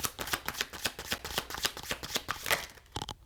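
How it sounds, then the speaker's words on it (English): Tarot cards are shuffled by hand in a rapid, steady riffling patter of dense papery flutters, close and fairly loud with no talking over it. "They said I was shuffling too much."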